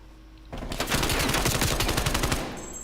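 Rapid SMG fire in an esports shooter match, a dense sustained burst of crackling shots lasting about two seconds, loud and close, then cutting off.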